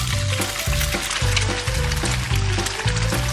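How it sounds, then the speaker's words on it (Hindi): Oil is poured into a frying pan at home while cooking breaded chicken nuggets, making a steady liquid pour with a gurgle that runs continuously at close range. "और अब फ्राइंग पैन में तेल डाला"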